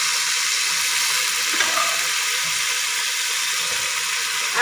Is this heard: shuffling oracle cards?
no